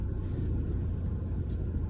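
Steady low engine and road rumble inside a moving car, loud and continuous throughout with no talking.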